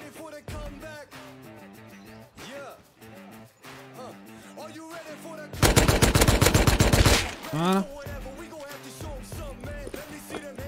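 SMG fire in the survival game Rust, with a dense rapid burst of automatic shots in the middle and scattered shots around it, heard under excited talking throughout.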